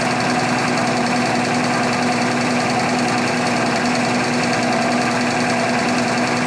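A distributor test machine runs steadily at about 620 RPM while a distributor fitted with new old-stock springs is checked, giving a constant loud whirring hum with a fixed tonal drone and no speech.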